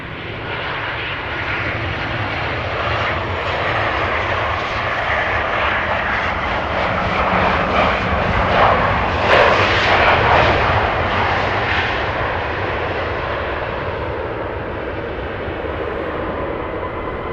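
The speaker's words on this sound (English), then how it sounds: "First airplane landing on runway 27 is also about to touch down." An airplane lands on runway 27 at Amsterdam Schiphol Airport, a loud, sustained jet engine roar that swells to a peak at touchdown and then eases slightly, with no voices.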